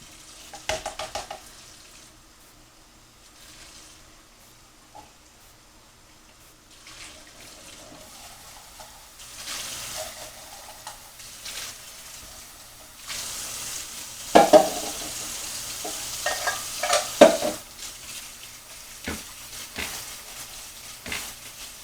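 Canned pinto beans being rinsed under running kitchen tap water for a homemade chili batch, a soft steady stream with louder splashing bursts near the middle and end.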